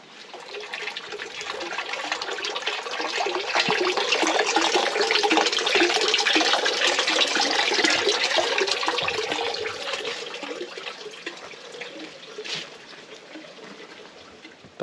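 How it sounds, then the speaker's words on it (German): A mountain-fed fountain on La Palma splashes steadily amid greenery and hillsides, a continuous broadband wash of falling water that swells in the middle and eases toward the end, heard close with no talking. "Ein Brunnen, der plätschert."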